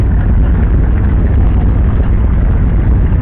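Motorcycles on a charity poker run roar past on the road, a loud, steady, continuous rumble of engines close by with no pauses, filling the whole stretch.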